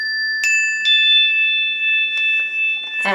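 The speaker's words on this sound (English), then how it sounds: "call in the angels with my little chimes" Small handheld chimes are struck a few times, each bright metallic ring sustaining and overlapping, ending with a quicker cluster of strikes, clear and close in a quiet room.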